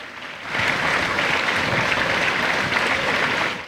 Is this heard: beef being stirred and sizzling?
no